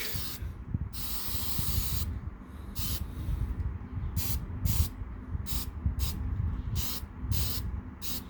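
Black base-coat spray paint hisses steadily from a can onto a Titanic wreck model diorama, close and continuous, broken by brief bursts as the nozzle is pressed and eased.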